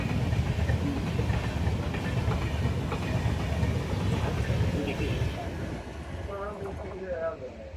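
Express train 22113 New Delhi Nizamuddin (Kerala–Delhi) passes Senapura railway station with a loud, continuous rumble and rail clatter that holds steady and eases only slightly toward the end.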